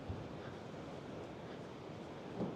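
Wind buffeting the Blackpool seafront during Storm Floris, a faint, steady broadband roar with a slight gust toward the end and no voices.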